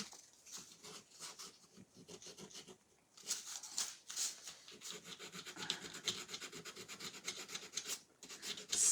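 A Gator sander is rubbing back and forth across a wooden table, giving a steady rasping scrape with brief pauses, heard close and alone.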